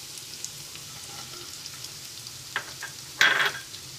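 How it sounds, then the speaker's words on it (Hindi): Chopped onion hitting a hot pan of bhindi masala, a soft background crackle of frying that bursts into a sharp, loud sizzle for a moment near the end, then settles back to a low hiss. "साथ ही इसमें प्याज ऐड कर देंगे।"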